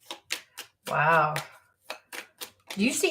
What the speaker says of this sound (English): Do you see how perfectly that is shuffling?